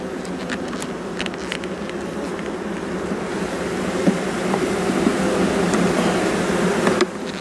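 A thick, constant hum of honeybees buzzing en masse in a hive, steady and close, with faint clicks and bumps scattered through.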